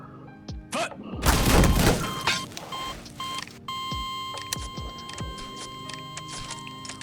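A volley of gunfire answers a command to fire, one dense loud burst lasting under a second amid electronic tones and beeps, followed by lighter scattered thumps.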